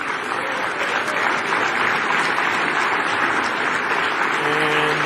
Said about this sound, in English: And they clap like seals.